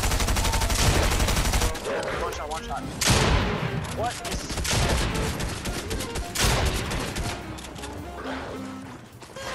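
Rapid game gunfire from a Fortnite match cracks out in dense bursts and volleys, loud and close, with a player briefly talking over the shots.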